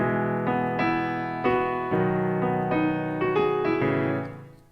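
A song played on piano with swung eighth notes, a lilting long-short rhythm over ringing chords, close and clear, no speech.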